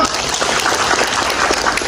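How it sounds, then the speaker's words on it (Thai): Volunteer traffic trainees applaud themselves at a special traffic volunteer training session run by a traffic foundation, a steady dense wash of many hands clapping close and loud for the full stretch. "แล้วก็พี่น้องอาสาทั่วไปปรบมือให้ตัวเองหน่อยครับ"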